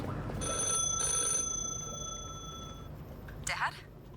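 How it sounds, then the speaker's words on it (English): A telephone rings in The Last Caretaker, two bright electronic bursts followed by a long fading tone, close and clear, with a short voice near the end. "The phone is ringing."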